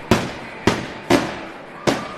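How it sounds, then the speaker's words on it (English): Fireworks bursting behind an outdoor hockey game broadcast, four sharp booming cracks at irregular intervals, each with a short decaying rumble, fairly distant and open-sounding. "Hey, the fireworks, they're sounding off behind us."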